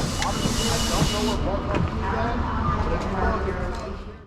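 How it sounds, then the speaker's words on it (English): A hissing rush of air and rail noise as Caltrain doors open, with a loud steady hiss that cuts off partway through, then rumbling. "Doors opening. Puertas abriendo."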